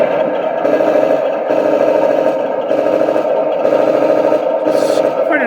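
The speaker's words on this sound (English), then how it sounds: "Nice little machine gun effect." Machine gun sound effect from a 1/16 scale RC King Tiger tank model, a steady rapid mechanical rattle running continuously for several seconds with brief dips, played close and fairly loud.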